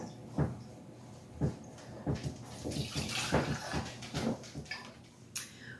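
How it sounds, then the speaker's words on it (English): Homemade vegetable broth is poured into quart jars, giving a series of soft liquid pours and splashes with light glass clinks and knocks at an uneven rhythm, close by, with no voices. "So I'm just going to keep filling up my jars here."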